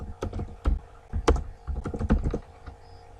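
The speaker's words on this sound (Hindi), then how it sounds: "तो हमने टाइप किया है रैंक यूट्यूब वीडियो।" Close, fairly loud typing on a computer keyboard as a search phrase is entered on a website, irregular clusters of sharp key taps with brief pauses between them, no talking.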